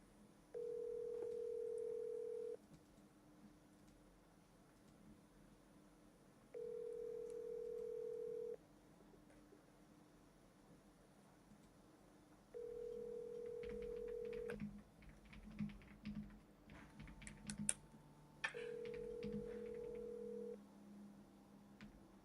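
Phone call in an office, dialing out on a wholesaling line: a steady tone repeats four times in regular two-second bursts separated by quiet gaps, with faint clicks and background hum between them and no talk.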